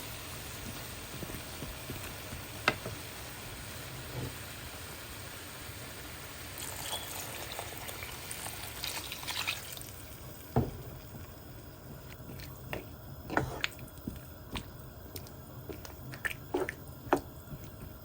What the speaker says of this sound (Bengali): আমি এখন পরিমাণ মতো পানি দিয়ে দিব এখানে